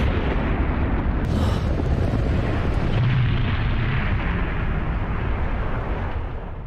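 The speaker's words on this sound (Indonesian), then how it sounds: "melemparkan batu itu ke udara. Membuat sebuah ledakan yang sangat dahsyat dengan suara yang keras." A massive blast erupts when a stone is hurled into the air in an anime fantasy tale, a loud, sustained roaring boom with rumbling debris that slowly fades away.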